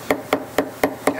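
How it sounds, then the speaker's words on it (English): A small hammer taps a roll pin into a door hinge while a Lambo-style door kit is fitted to a 2020 Toyota A90 Supra: five sharp, close metallic taps, evenly spaced and alone. "So you just take this with a smaller hammer, you don't need nothing crazy."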